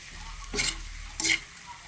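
A spoon scrapes twice through bitter melon sautéing with egg in a hot pan, with two short stirring strokes over a soft, continuous sizzle.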